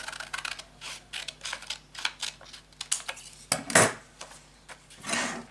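Scissors snip through a fabric sewing pattern for a crossover jumpsuit, a run of quick close clicks and rasps in irregular bursts, with a louder sustained cut near the end and no talking.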